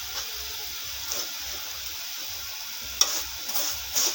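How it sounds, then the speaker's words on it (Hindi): Vermicelli (sewaiyan) frying gently over low heat, a steady soft sizzle with occasional light stirring clinks from a utensil against the pan. "इसको धीमी आंच पे सेवइयों को हल्का सा फ्राई कर लेंगे।"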